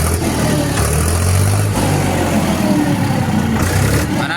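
A Digitrac PP43i 47 HP tractor engine revs steadily, a loud, close mechanical drone with rising and falling throttle surges and no speech.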